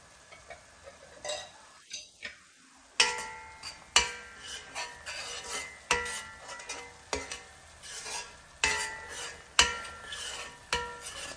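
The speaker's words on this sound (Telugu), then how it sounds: "నూనె తేలే వరకు బాగా ఇది వేయించుకుంటూ ఉండాలి" Vegetable masala of potato, cauliflower and peas frying in oil in a pan with turmeric, soft sizzling under regular scraping stirs of a spoon against the pan.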